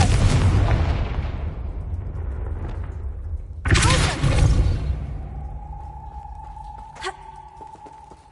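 A Confringo fire spell erupts with a loud blast in the Hogwarts Legacy video game, bursting over ongoing rumbling noise, followed by a ringing magical tone and a sharp secondary pop.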